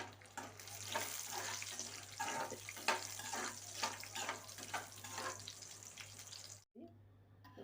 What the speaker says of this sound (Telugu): జీడిపప్పు నేను నెయ్యిలో వేపుకుంటున్నాను